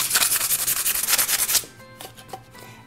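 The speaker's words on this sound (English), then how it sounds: "we're just gonna give this a light sand" Light sanding of a live edge wood board during resin prep: a rough, rhythmic back-and-forth scrubbing of close strokes for about a second and a half, then it stops, leaving a few faint scattered clicks.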